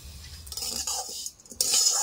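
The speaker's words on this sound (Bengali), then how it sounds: "এই তেলের মধ্যে আমি সিমাইটাকে দিয়ে দিচ্ছি।" Vermicelli fries in white oil in a hot wok while being stirred, giving close scraping and clinking strokes over a bright sizzle that swells loudest toward the end.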